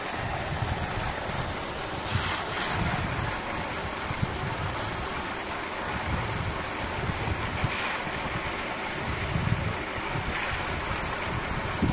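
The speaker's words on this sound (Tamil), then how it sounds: "செம போர்ஸ் தண்ணி" Strong, rushing water and waves at an outdoor spot near Chennai, forming a steady, loud wash of surging water with wind noise buffeting the microphone and no talk.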